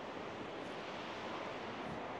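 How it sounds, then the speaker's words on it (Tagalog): A waterfall in the Taiwan mountains roars as a broad, steady wash of falling water, soft and continuous with no voices. "First time ko makakita ng waterfalls sa personal"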